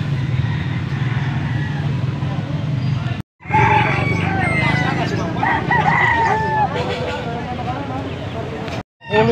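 Roosters crowing among chickens at a fowl market in Angeles, Pampanga: a loud, drawn-out crow rises over a busy background of clucking, traffic and voices talking nearby.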